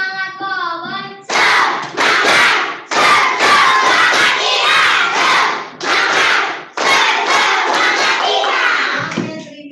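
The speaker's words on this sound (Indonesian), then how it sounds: "Tepuk semangat cowboy." A group performs the clapping chant "tepuk semangat cowboy", loud and close, with rhythmic bursts of clapping and shouted chanting broken by short pauses, ending in a final shout.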